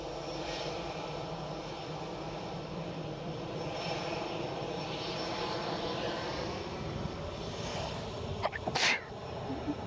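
One close, abrupt human sneeze bursts out near the end, over a steady background hum of distant jet aircraft engines at an Edinburgh plane-spotting spot.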